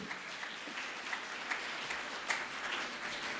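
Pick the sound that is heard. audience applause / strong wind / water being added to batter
audience applause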